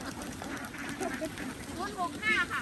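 Ducks in a coop on a duck farm at Don Mot Daeng, Ubon Ratchathani, give several short, fairly faint quacks in quick succession, partly under someone talking nearby.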